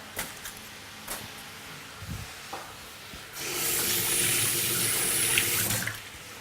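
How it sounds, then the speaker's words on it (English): A capsicum is rinsed under a running kitchen tap. A few light knocks and handling sounds come first, then a steady gush of water into the sink runs for about three seconds before it stops. "I'll just wash this and take out the core."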